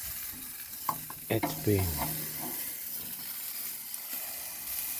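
Irish beef strip loin steak sears on a braai grill as part of a reverse sear, giving a steady sizzling hiss with a few brief louder crackles and scrapes early on; a voice speaks briefly.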